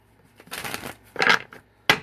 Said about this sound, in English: One more shuffle right here.